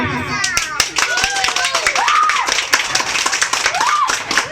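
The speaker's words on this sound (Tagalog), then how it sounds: "Para yung palakpak ha. Para kay Angela." Guests at a child's birthday party clap for the winner of a game, a cluster of sharp claps spread through the clip while children and adults talk and call out over them.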